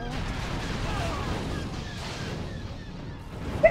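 Blaster gunfire from Star Wars: The Force Unleashed forms a dense, continuous wall of booming battle noise with rumbling low end, steady and loud throughout, with a sharper thump right at the end.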